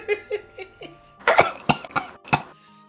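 Several short coughs in a row, then louder, harsher hacking coughs in quick bursts, close by.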